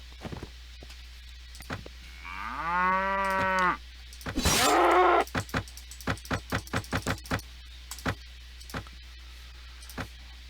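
Cattle moo in the medieval video game Mount & Blade Warband, one long loud low moo followed by a louder bellow, then a run of quick rhythmic footstep-like clicks, with no talking.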